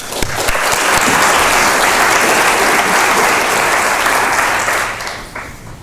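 A conference audience breaks into loud, sustained applause to welcome Professor Wendy Chapman, a dense wash of clapping that holds steady for several seconds before tapering off.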